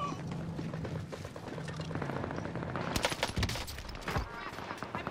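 Enemy gunfire in a video game firefight, starting distant and muffled and then turning into sharp, louder bursts of rapid shots in the second half, with players talking at times.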